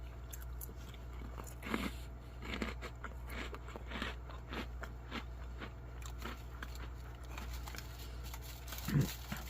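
Freeze-dried mint chocolate chip ice cream is bitten and chewed up close, with repeated dry crunches spaced across a quiet background.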